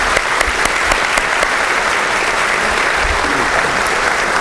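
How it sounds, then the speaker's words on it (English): A loud, dense round of indoor audience applause at an education awards celebration, steady and unbroken for several seconds, with no speech over it. "Would you please join me in giving them a round of applause?"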